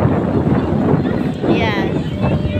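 Wind blowing outdoors at Wawa Dam, a loud steady rush of microphone buffeting that continues throughout, with voices talking underneath.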